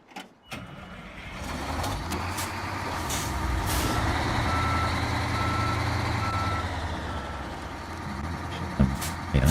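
A truck reverses in the SnowRunner video game, its engine rumbling steadily while a backup beeper repeats a high tone and a hiss of air brakes sounds near the end.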